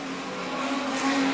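Street stock race cars on an oval track in a feature race, a loud, steady engine drone that swells slightly as the cars pass close by.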